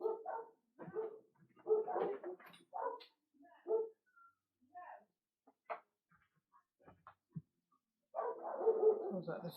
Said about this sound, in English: There's a dog accident going on outside.